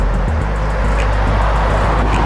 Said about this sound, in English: Just look at the traffic.